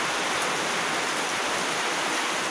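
Heavy rain pours down steadily during a typhoon in Masbate, a dense, even hiss of falling water close by with no breaks and no voices.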